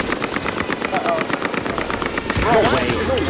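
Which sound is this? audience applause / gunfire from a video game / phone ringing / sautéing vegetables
gunfire from a video game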